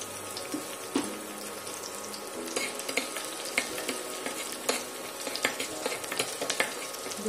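Chopped garlic frying in melted ghee in a pan, a steady soft sizzle with scattered clinks and scraping stirs throughout, close and continuous with no talk.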